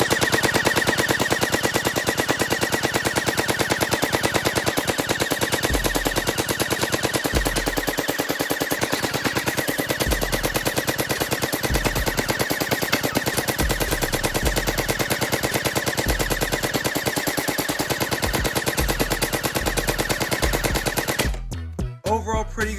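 An XShot Hyper Gel Nightmare gel blaster fires in rapid automatic bursts with a tracer unit attached, loud and close, as a continuous mechanical rattle and whir that cuts off abruptly near the end.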